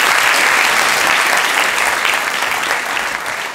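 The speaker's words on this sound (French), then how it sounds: "On peut les applaudir encore une fois." An audience at the Paris improv festival applauds: dense, sustained clapping from a large crowd fills the whole stretch and eases slightly toward the end.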